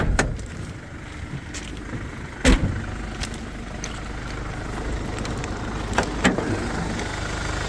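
A 2017 Mercedes Sprinter 513 twin-wheel van idles steadily under the open bonnet, a continuous low rumble with a few sharp clicks and knocks scattered over it.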